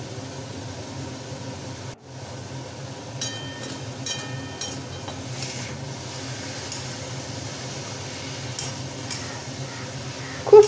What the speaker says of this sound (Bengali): কারণ আমি তো মশলা আর বাঁধাকপি এখন কষাবো, তার সাথেই চিংড়িটা আমি নুন হলুদ মাখিয়ে একসাথে দিয়ে দেবো।